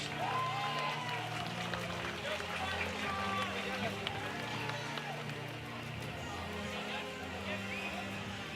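A large crowd applauds and cheers for trophy winners at an award ceremony of the UCI BMX Racing World Championships, a dense, steady roar of clapping and voices with an announcer's amplified talk over it.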